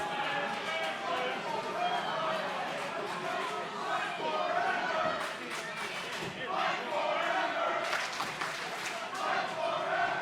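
Wrestling crowd at an IZW heavyweight match roars and cheers continuously, swelling in bursts with scattered shouts and claps, a dense, loud wall of voices.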